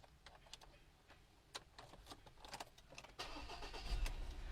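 A 2016 Ford Everest with a 2200 cc engine is started with a turn key. A few faint clicks come first, then the engine catches and settles into a steady, louder idle.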